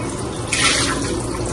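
Filtered water runs steadily from a tap into a container, a constant close hiss that swells briefly louder near the middle, with no talking.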